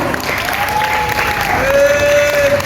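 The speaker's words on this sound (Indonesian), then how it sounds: "Beri tepuk tangannya sekali lagi yang meriah dong teman-teman" Applause from an audience at a pesantren hall inauguration and Independence Day celebration fills the clip with loud, continuous clapping. A steady tone rings faintly underneath.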